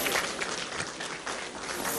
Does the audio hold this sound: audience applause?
yes